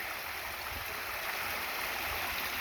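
Steady broadband rush of storm runoff spilling down an 8-10 foot rocky drop, continuous and fairly close with no talking.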